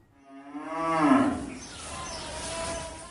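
A Friesian bull at a farm in Dhamrai, near Dhaka, gives one long, loud, close moo that swells and then trails off into a lower drawn-out tail, with no voices nearby.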